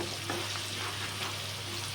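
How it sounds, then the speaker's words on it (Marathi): Crushed ginger and garlic paste frying in oil in a pan, a steady soft sizzle with faint stirring scrapes and a low hum, close and fairly quiet, with no voices. "पेस्ट पण तेलामध्ये व्यवस्थित अशी तळून घेऊया."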